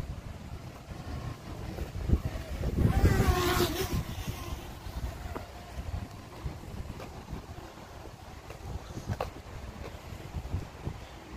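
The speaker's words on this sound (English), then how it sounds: "Man, it's really windy up there." Strong wind buffets a drone high in the air, a rough, rumbling roar that swells to a loud gust near the middle and then settles to a steadier blustery noise.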